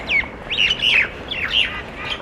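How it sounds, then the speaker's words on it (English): Small birds chirp outdoors near a strip mall, a string of bright, quick tweets and warbling calls in several bursts, fairly close and clear against a quiet background. "And the birds are saying hello."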